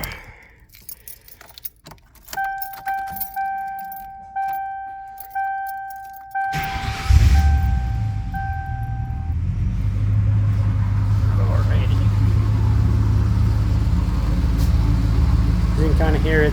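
A Ford Thunderbird sits quiet apart from a few soft repeating chime tones, then its engine fires up and settles into a steady, loud, low exhaust rumble that carries through to the end.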